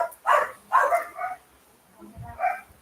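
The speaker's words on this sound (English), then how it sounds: "Sorry, my dogs are going crazy." Several pet dogs bark at visitors in a home, four or five sharp loud barks in quick succession with a low whimper or growl between them.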